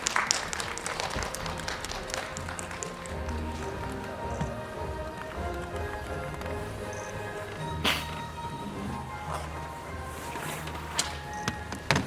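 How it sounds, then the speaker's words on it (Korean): Audience applause at a press conference in a national theater hall as guests are invited onto the stage, a steady dense clapping wash that carries through the whole stretch with a few sharper individual claps. "큰 박수 부탁드립니다."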